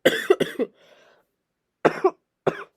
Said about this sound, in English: If I cough during this episode, that's a little bit of a warning, I guess.